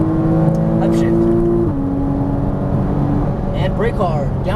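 Porsche Cayman S engine on a race track holds a steady high drone, then the pitch drops and climbs again after an upshift. The engine runs loud and close, with someone talking over it.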